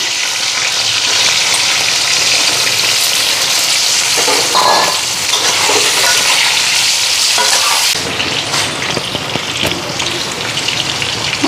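Masala spices sizzle loudly in a hot pan in a home kitchen, a dense continuous frying hiss with crackles and occasional stirring scrapes, steady and close throughout.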